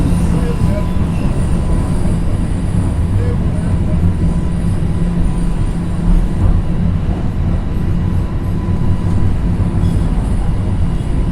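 A TTC subway train runs along the track in Toronto, giving a loud, steady rumble and rattle that continues without a break.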